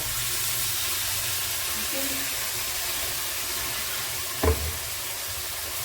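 Ginger, garlic and onion puree frying in a pan gives a steady, soft sizzling hiss, with a brief clatter near the end.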